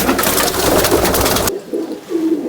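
A pigeon coos nearby amid a dense, noisy flock, then the noise drops away and softer coos continue alone.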